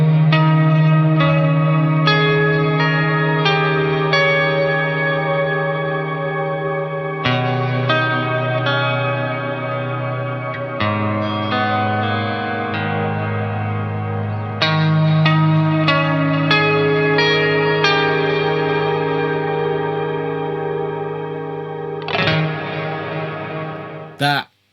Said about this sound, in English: That is a cool sounding reverb.